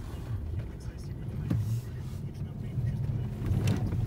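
A car pushing along a snowy winter road through drifts, a low engine rumble with bumps and thuds as it rolls, while people talk inside the cabin.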